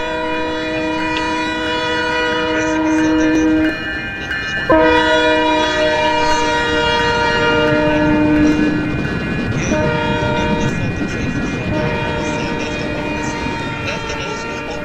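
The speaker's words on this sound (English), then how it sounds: "That's where the H train goes towards Stockton." A Roblox game train rolls past with its horn blaring in long sustained blasts, a brief gap mid-way before the horn resumes, over a steady rumbling wagon noise, loud and close throughout.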